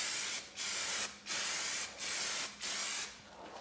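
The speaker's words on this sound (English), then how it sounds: "Getting ready to spray my 2K Spray Max Clear Matte finish on these." A 2K SprayMax matte clear coat aerosol can sprays onto painted car emblems in four short, steady hissing bursts separated by brief pauses, close and fairly loud with no talking.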